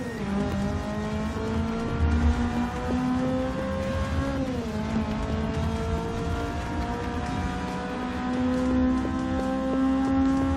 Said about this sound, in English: Listen to that GT86 kick, man. I love that Boxster sound.